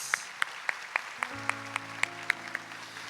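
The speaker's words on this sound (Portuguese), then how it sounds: "Vamos aplaudir a palavra de Deus." A church congregation applauding during a Catholic Mass, about a dozen evenly spaced claps in a steady rhythm, as if clapped in unison, over a low sustained organ or keyboard chord.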